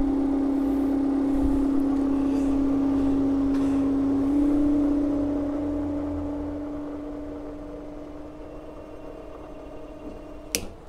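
A big fan driven at about 1000 RPM through an H-bridge alternative at 2 amps, giving a steady tonal motor hum with a strong whine that holds throughout, easing slightly in loudness near the end, with a brief click at the close.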